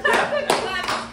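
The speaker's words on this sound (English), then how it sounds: "I just give him half a clap" Three hand claps, one after another, at a steady slow pace in an indoor setting. Faint speech sits beneath them.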